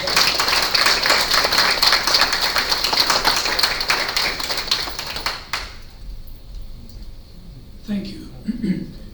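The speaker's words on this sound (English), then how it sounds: "Can you please give a warm, awesome round of applause for our lecturer tonight?" Audience applauding a lecturer at the end of an evening cosmology lecture, dense sustained clapping from a crowd for about five seconds that then stops abruptly, followed by quieter room sounds and a few faint voices.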